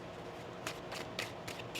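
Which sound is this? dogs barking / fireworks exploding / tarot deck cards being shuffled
tarot deck cards being shuffled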